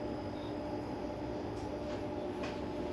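Steady low rumble and hum inside a moving TCDD night train sleeping cabin between Ankara and Izmir, continuous rolling noise with faint higher rattles, no voices.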